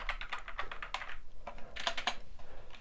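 Keys of a ZX Spectrum computer keyboard pressed in quick, uneven runs of soft clicks and taps close up, steady over a light background hiss.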